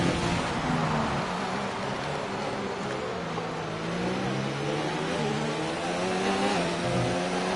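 A Formula 1 car engine in F1 2019 at the Bahrain Grand Prix, a loud continuous high-pitched whine that rises and falls as the revs climb and drop through gear changes, with no talk over it.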